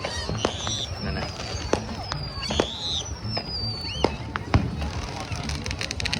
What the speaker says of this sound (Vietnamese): Người ta ngồi đợi để mà tối người ta bắt đầu bắn pháo hoa đấy.